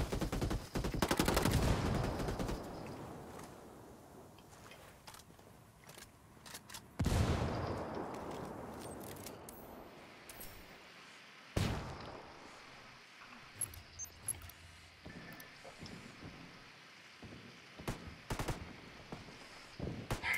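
Video game firefight with bursts of gunfire, loud volleys at the start and mid-way followed by scattered single shots and sharp cracks against quieter background noise.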